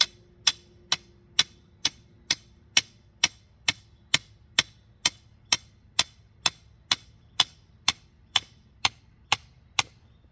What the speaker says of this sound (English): So I'll do that and I'll hammer these down.